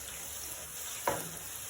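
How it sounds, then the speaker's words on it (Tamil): Curry leaves frying in hot oil for a South Indian fish gravy make a steady, soft sizzling hiss with one brief scrape of stirring partway through, heard close with no talk. "நல்லா பொரியுது"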